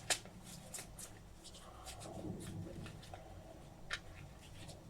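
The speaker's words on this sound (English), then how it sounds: "let me give this a shuffle." A deck of cards is shuffled by hand during a Hellboy board game, giving soft riffling, flicking rustles and a few sharp snaps, close but fairly quiet.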